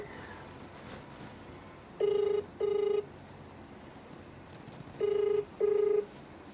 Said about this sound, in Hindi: चंद्र बाबू नायडू, फोन उठाइए